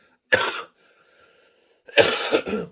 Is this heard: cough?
yes